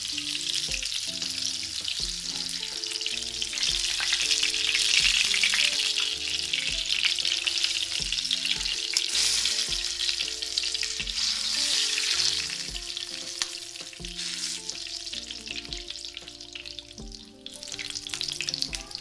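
Chicken chapli kababs fry in a pan with a dense, steady sizzle and crackle, punctuated by occasional soft scrapes of stirring, heard close and without talking.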